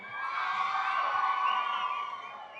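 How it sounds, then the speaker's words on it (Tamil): An audience at a Tamil stage speech event cheers and applauds. A steady, moderately loud wash of crowd noise swells and fades over a few seconds. "எங்கள் சின்னத்திரை நயன்தாரா அக்காவிற்கு ஒரு பெரிய கைத்தட்டல்."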